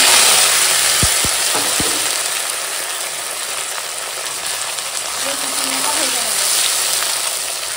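Chopped vegetables hit hot oil already seasoned with dry chilli, bay leaf and five-spice, giving a steady, close sizzle and frying hiss, with a few sharp utensil knocks near the start.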